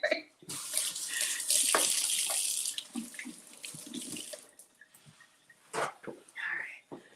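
Tap water runs in bursts as hands are washed after handling fish oil, close splashing that starts and stops over several seconds, with soft speech in between.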